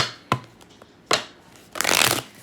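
Tarot cards being shuffled up close: two sharp riffling snaps, then a longer, louder burst of cards sliding and flapping together, with no talking.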